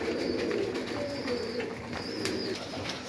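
Pigeons coo softly in a dovecote, several low repeated coos overlapping at close range against a faint background hum.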